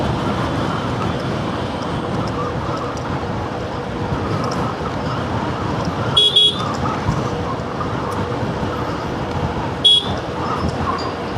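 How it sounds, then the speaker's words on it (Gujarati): Busy road traffic near the bridge to Bet Dwarka on a very windy day: a constant engine and wind roar with two short, sharp horn toots standing out midway and near the end. "ફૂલે ફૂલ ટ્રાફિક છે"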